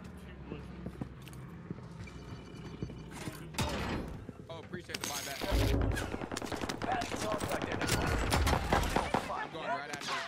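Video game gunfire: a string of sharp shots and clicking weapon handling, dense in the second half and at moderate loudness, with a voice talking faintly underneath.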